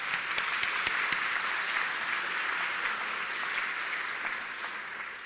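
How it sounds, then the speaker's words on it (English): Sustained audience applause at a school district teaching-excellence luncheon, many hands clapping steadily and fairly close, holding a fairly even level for the full stretch with only a slight fade at the end. "Would you please give them another round of applause?"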